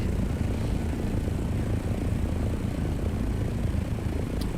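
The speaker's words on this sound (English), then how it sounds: "But thankfully, we got this nice little plane now." A small plane flying in the video game Dune: Awakening, its engine a steady, dense droning roar that holds constant and close throughout, with no talk over it.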